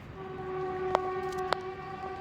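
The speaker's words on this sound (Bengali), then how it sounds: "কামাখ্যা স্টেশনে স্টপেজ আছে তার জন্য ট্রেনটি স্লো হয়ে গেছে" A Vande Bharat Express train horn sounds steadily with sustained tonal harmonics as it slows for Kamakhya station, with two short sharper bursts briefly rising above it, over a low rumble.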